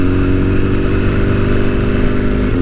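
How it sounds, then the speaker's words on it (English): A 2022 BMW S1000R motorcycle engine runs steadily at idle, a loud, close, continuous mechanical drone with a rough pulsing throb and no voices over it. "this engine has been running now for the best part of 5 minutes"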